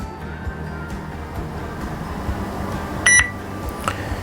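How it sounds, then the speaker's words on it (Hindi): A fingerprint scanner gives one short, clear electronic beep after authentication, heard midway through over a steady low background hum. "फिंगरप्रिंट होते ही इस तरह का एक बीप का साउंड आएगा"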